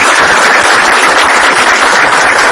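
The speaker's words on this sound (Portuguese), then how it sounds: "Eu gostaria de pedir uma salva de palmas" An audience at the close of a banking talk on big data applauds in a loud, dense, continuous burst of clapping that fills the short moment.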